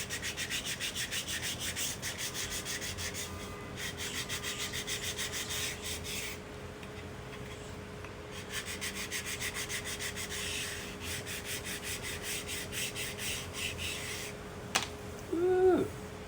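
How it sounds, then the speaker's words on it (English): A wooden barrel is sanded by hand with 80-grit sandpaper in quick, steady rubbing strokes, close and fairly quiet, with a few pauses between bursts and a brief knock near the end. "I take a little 80 grit."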